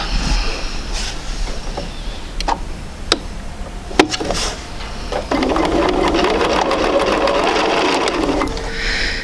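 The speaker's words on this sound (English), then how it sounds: "I'm going to go ahead and sew straight down" A sewing machine stitches quilt pieces for a basic sampler quilt, first in short separate bursts and clicks, then in one steady, close, whirring run of needle strokes.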